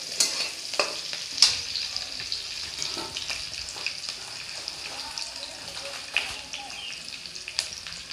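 Chopped ridge gourd and potatoes sizzle and fry in a pan while being stirred, a soft steady hiss with scraping clinks of a spoon against the pan, close and fairly quiet.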